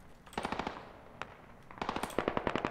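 Gunfire in the video game Squad: two short bursts of rapid automatic shots, about seven rounds each, separated by a lone shot, fairly close and moderately loud with no talking.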